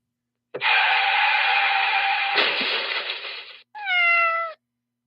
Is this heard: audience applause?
no